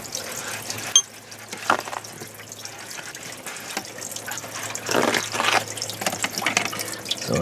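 Water drains from a Mercruiser 4.5L Alpha One stern drive engine being winterized, a soft steady trickle and splash with a few faint clicks, fairly quiet and unaccompanied by talk.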